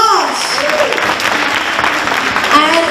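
Audience applause following a student presentation at a community seva event, steady clapping filling the hall throughout, with voices mixed in under the clapping.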